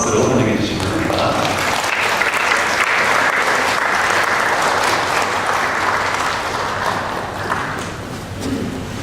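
A church congregation welcomes a doctor to the front with loud, sustained applause, a dense wash of clapping close by that slowly tapers off near the end.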